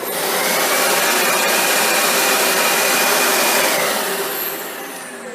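Dyson DC65 Animal vacuum cleaner idling with a loud, steady airy whine and broadband rush that holds evenly, then eases slightly near the end, with no voices.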